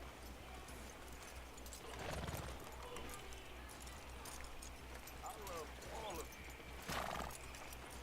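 A horse in the Red Dead Redemption 2 video game whinnies twice over a low steady background, with a few soft hoof clops in between while someone talks.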